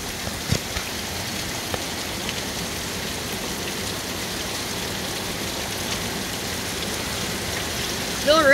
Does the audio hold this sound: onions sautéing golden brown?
no